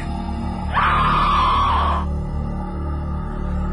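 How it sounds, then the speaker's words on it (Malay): An eerie scream sound effect in a radio horror story rises over a steady low music bed, holds for about a second and a half, then falls away, loud and alone without talking. "terdengar hilayan ketawa dan jeritan yang amat menyeramkan"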